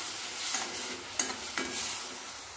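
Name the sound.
roasting tomatoes in a pan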